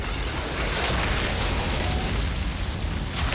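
The Fire Witch's Phaser skill in Outriders gives a dense, continuous roaring whoosh of fiery noise, loud and steady throughout with no distinct separate hits.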